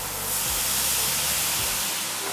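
Steam hisses loudly and steadily from a cooking pan once water goes into a marinade, a broad close-up rush with low bubbling thumps underneath.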